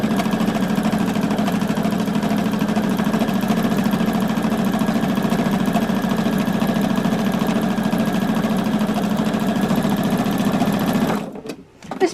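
A sewing machine stitching a quilt runs continuously at an even, rapid pace with a steady mechanical whir and chatter, close and fairly loud, stopping abruptly near the end with a few soft clunks.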